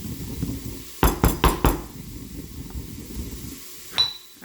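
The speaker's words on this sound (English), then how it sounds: "I didn't have any pre-ground, so I'm doing some extra work for it. But you can grind your cumin." Whole cumin seeds crushed by hand, heard as four sharp, close pounding knocks in quick succession followed by a quieter stretch and one last clink.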